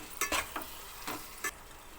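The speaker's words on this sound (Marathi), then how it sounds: "आता यामध्ये 2 चमचे सोया सॉस घालून घ्यायचा. हे पूर्ण मिक्स करून घ्यायचं." Soy sauce being stirred into egg fried rice in a pan, several quick scraping strokes of a spoon against the pan over a soft sizzle, close and fairly quiet, with no voices.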